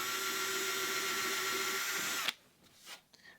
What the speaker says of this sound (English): we just drill a small hole right at the end of the crack